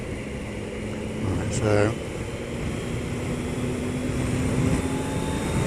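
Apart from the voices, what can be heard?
motorcycle accelerating in third gear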